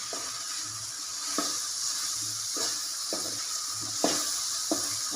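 Ingredients for tomato chutney are roasted in a pan with a soft, continuous sizzle. Periodic stirring scrapes come at roughly one-second intervals, quiet and close, with no talking.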